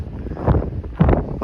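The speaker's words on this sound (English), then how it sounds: "I'm not even sure you can hear me anymore with this wind and fog and everything" Wind gusting against the microphone on a foggy Appalachian Trail mountain path, a short, loud, rumbling buffeting with two stronger surges.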